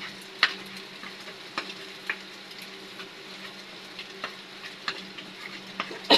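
Food frying in a pan on a home stove, a steady soft sizzle broken by sharp clicks and taps of stirring at irregular intervals, close and moderately quiet with no talking.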